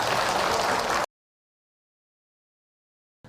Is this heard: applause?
yes